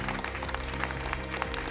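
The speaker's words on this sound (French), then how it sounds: "Je vous demande d'accueillir et d'applaudir Rémi Quirion." Audience applause welcoming Rémi Quirion, Québec's chief scientist, onto a French-language science broadcast set; a short, steady burst of clapping at moderate level with no voices.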